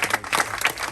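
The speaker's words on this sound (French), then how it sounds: "Alors on peut l'applaudir, mesdames et messieurs" Brief burst of clapping from passengers on a CroisiEurope river cruise on the Douro in Portugal, applauding the chef, a lively, close patter of many hands lasting about a second.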